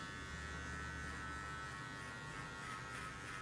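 Electric hair clippers fitted with a number 3 guard cut a men's fade haircut, a steady close buzzing drone that holds unbroken throughout with no talking.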